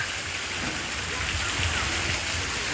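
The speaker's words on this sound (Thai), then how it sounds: "น้ำเต็มแล้วครับเต็มแล้วเต็มแล้วไหลลงมา" Water gushes steadily down at a hotel water park as a tank fills and overflows, a loud continuous rushing and splashing close by that covers the whole stretch.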